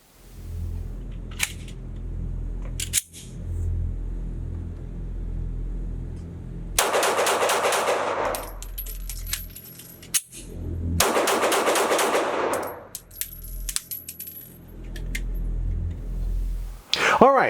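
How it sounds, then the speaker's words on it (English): Two fast strings of pistol shots from a Lone Wolf LTD19 Glock 19 clone fired at an outdoor range, loud sharp cracks with a short reload pause between the volleys. "I'm going to shoot this gun relatively fast, or fast for me, with a quick reload, see if I can get all the shots on target"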